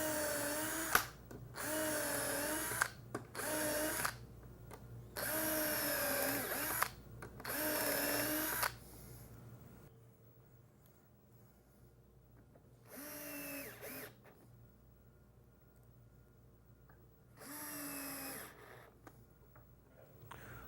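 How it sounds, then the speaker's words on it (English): A power drill pre-drills screw holes through a cup hinge into a wooden face frame cabinet door, running in several loud whirring bursts that rise and fall, separated by quieter pauses, with no talking. "So holding the hinge in place, we're just going to pre-drill for our screws."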